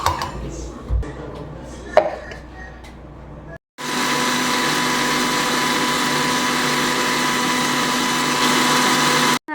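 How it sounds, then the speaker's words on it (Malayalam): Mixer grinder blending a spice paste with yogurt, a loud steady whirring roar lasting several seconds after some clinks and handling noises, then cutting off abruptly. "ലാസ്റ്റ് കുറച്ച് തൈരും കൂടി ആഡ് ചെയ്തിട്ട് നമുക്ക് ഒന്ന് മിക്സിയിൽ അരച്ചിട്ട് വരാം"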